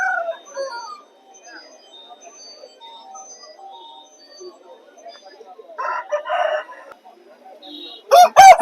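A rooster crows once, loud and close, right at the end, after a stretch of faint market noise with distant voices and scattered bird calls at a livestock fair selling chickens, goats, sheep and buffalo.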